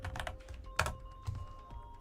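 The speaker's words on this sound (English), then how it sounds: "I can just type in Skull Gray," Keys clack on a computer keyboard as a short search term is typed, with several quick irregular taps and one sharper strike, close and fairly quiet, with no talking.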